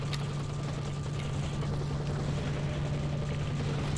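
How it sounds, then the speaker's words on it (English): A helicopter in S.T.A.L.K.E.R. Shadow of Chernobyl gives a steady, constant rotor and engine drone overhead, with a low hum throughout and no talking. "Helicopter."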